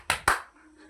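Schoolchildren in a classroom planet clapping game clap twice in quick succession, two crisp close claps followed by a brief quiet tail.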